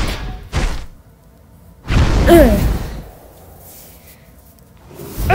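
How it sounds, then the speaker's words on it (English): A roaring, swelling whoosh of Godzilla Jr.'s atomic breath attack in a video game, rising loud around two seconds with a sharp tonal sweep, then trailing into a quieter rumble before another surge near the end. "And the attacks? The atomic breath?"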